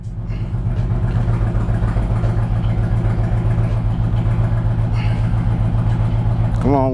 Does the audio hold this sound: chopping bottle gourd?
no